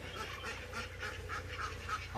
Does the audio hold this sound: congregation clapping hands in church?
no